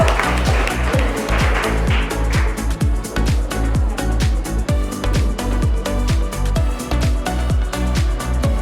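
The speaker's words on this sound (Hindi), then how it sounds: "आरोही डाके के लिए एक बार जोरदार तालियां" Loud, steady clapping from a group cheering a child's correct guess, fast rhythmic claps repeating evenly over a low, sustained musical drone.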